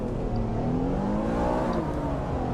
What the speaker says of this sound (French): le bruit du moteur, c'est pas beau ça